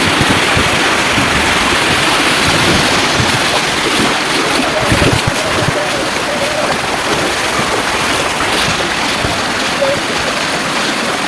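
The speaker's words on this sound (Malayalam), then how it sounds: "ഇതാ വെള്ളം വെള്ളം കൂടിയിട്ട് കക്കടിപ്പുറം വെള്ളച്ചാട്ടത്തിലാണുള്ളത്" Water swollen by heavy rain roars over Kakkadippuram waterfall in Kerala, a continuous loud broadband rush with no pauses, heard up close and alone.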